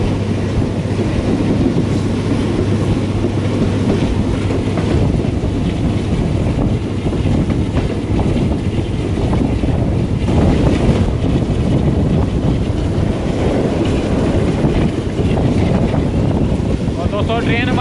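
The Pak Business Express, a passenger train running from Bahawalpur to Lahore behind a Chinese-built locomotive, rumbles loudly and steadily on the rails, with heavy wind buffeting from an open window as it approaches a river bridge.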